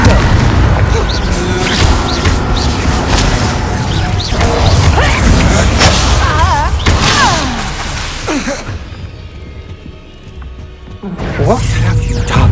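The Confringo fire spell in Hogwarts Legacy goes off as loud, crashing booms amid dense combat noise and whooshes, with voices shouting over the action and a brief drop to near quiet before more blasts.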